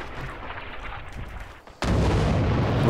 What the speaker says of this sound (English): That was grenade.